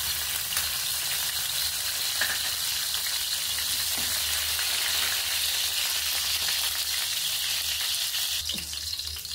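Onions sizzling in a pan of oil for vegetable lumpia, a dense, continuous hiss at moderate level with only faint scraping now and then.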